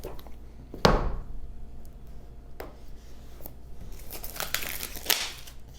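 Packaging for a Google Nest Hub being handled during unboxing: sparse crinkles, rustles and sharp tears of plastic and cardboard, close up, with a louder rip early and a burst of crinkling near the end.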